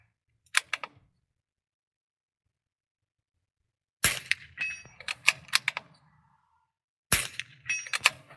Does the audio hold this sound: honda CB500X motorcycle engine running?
no